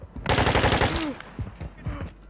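Shotgun blasts ring out in Warzone 2 gameplay with the meta Olympia shotgun, a quick burst of loud booming shots close together followed by two more spaced reports.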